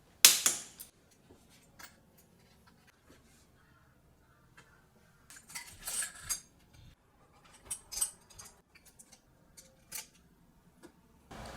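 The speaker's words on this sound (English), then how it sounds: "Now I can add the chain ring and the cranks, and because we're using vertical dropouts, we also need a chain tensioner and of course the chain itself." Chain ring, cranks, tensioner and chain going onto a compact electric cargo bike with vertical dropouts: scattered close metallic clicks, clinks and ratchety taps in short bursts separated by quiet pauses.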